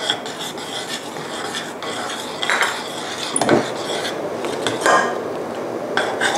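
A spoon scraping and stirring thick creamy corn pie filling in a pot on the stove, a steady near rasping and scraping with a few clinks against the metal, with no talk.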